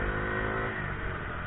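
A motorcycle engine revs steadily under acceleration, a dense, close, continuous buzz with no pauses and no talking.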